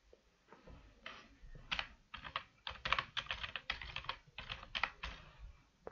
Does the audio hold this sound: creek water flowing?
no